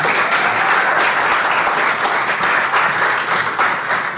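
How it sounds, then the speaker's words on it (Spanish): Sustained applause from a concert audience after a tiple requinto performance of llanera music, steady and dense clapping throughout with no pauses. "Un aplauso a Magdalis."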